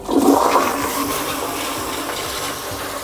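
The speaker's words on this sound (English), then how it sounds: "You're gonna flush the toilet" A household toilet flushes close by with a loud rushing surge of water that settles into a steady swirling drain and refill hiss. No one speaks.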